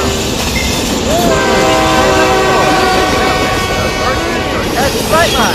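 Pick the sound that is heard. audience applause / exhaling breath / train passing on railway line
train passing on railway line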